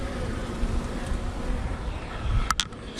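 A honey bee swarm hums in a dense, steady buzz close by while a beekeeper pulls bees out by hand, with a couple of brief sharper bursts near the end.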